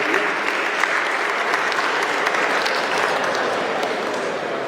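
A crowd at a school annual function claps loudly in a dense, even burst of applause that holds steady throughout, with no voices standing out.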